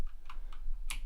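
A computer keyboard is tapped to play notes: a handful of separate clicky key presses, close and fairly quiet, with the last one sharpest, and no speech.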